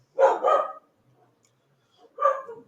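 Domestic dogs bark in two quick double bursts, then a pause, then another bark, fairly close and clear against an otherwise quiet background.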